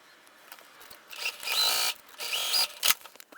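A sewing machine stitches fabric for an eyeglass case in two close, steady bursts of whirring, with short pauses and light clicks between them.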